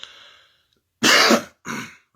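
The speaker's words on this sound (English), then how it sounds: "You're going to hear a nigga cough." A man with a sinus infection clears his throat, then gives two harsh coughs, close and loud with short silences between.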